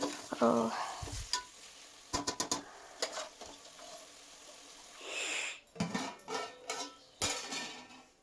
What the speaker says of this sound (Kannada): ಎಣ್ಣೆಯಲ್ಲಿ ಈ ಮಸಾಲೆಯಲ್ಲಿ ಸ್ವಲ್ಪ ಪೀಸೆಲ್ಲ ಫ್ರೈ ಆಗಬೇಕು.